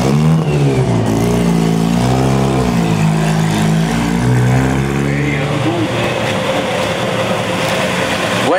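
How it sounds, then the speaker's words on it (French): A Bugatti Brescia Type 13 with racing bodywork revs its engine loudly and steadily, pitch climbing and falling in waves close by, with a faint voice underneath. "au volant de son Brescia type 13, carrosserie course"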